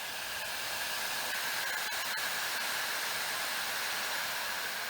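Hauzzo ionic hair dryer running on its high heat setting, a constant close airy blowing hiss with a faint motor whine and a few brief clicks, no speech.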